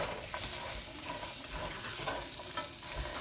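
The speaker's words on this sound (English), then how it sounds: "You hear that sizzle." Steady, busy sizzle of pecans frying in butter in a pan, close by and moderately loud, with faint stirring scrapes running through it and no speech.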